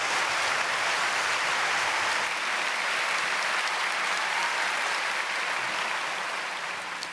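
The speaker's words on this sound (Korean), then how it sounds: "우리 나오실 때 크게 박수로 환영해 주시면 감사하겠습니다." A church congregation at a Wednesday prayer service gives a sustained, even wave of applause welcoming the pastor, a dense hiss-like clapping that fades gently toward the end.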